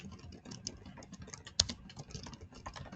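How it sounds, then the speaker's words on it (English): Quiet, steady typing on a computer keyboard, with soft rapid key clicks and one sharper, louder tap partway through, heard alone at close range. "I'm just gonna go ahead and type out a question for the crowd."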